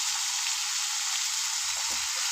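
Curry leaves and tomato frying in a pan, a steady broadband sizzle that holds close and even throughout, with a faint low thump near the end.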